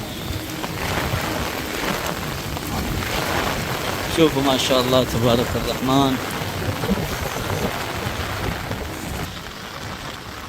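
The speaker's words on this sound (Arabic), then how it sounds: "امطار غزيرة يا جماعة الخير ما شاء الله والهواء بارد." Heavy rain falling in Medina with strong wind, a dense steady hiss of downpour on surfaces, close and loud, while someone talks over it briefly.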